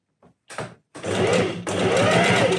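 A sewing machine stitches bias binding onto a halterneck strap, starting with a couple of short hesitant bursts before settling into a loud, steady whirring run close by.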